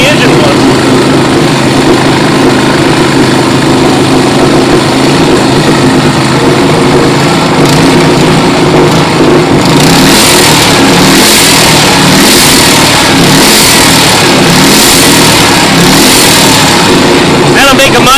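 A Honda GC160 small engine off a generator idles quietly close by, and rattling tools on a table rumble louder than it does. Partway through it revs in repeated rising pulses, and someone talks over it.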